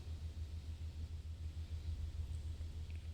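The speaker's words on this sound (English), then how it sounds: "I heard the sound of a car parking outside" A car pulling in and parking outside, a sound effect from the video game Cold Case, heard as a quiet, steady low engine rumble that holds evenly without clear revving.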